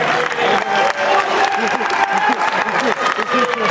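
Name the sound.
audience applause at a convention panel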